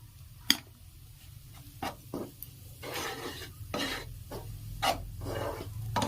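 Spoon scraping and stirring through thick chickpea dal mixed with ghee for laddus, with irregular rasping strokes and soft thumps against the pan, close and clear with no talk.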